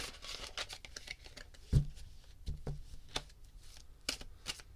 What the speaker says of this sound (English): All right, cleansing shuffle for Be New Girl.